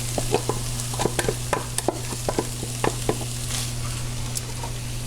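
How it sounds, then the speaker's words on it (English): Salsa and chopped tomatoes stirred into a sizzling casserole, quick clicking spoon strokes against the pan over a constant hum and frying hiss, close and clear, with no voices. "now I'm going to bring in that lovely combination of salsa and chopped tomatoes"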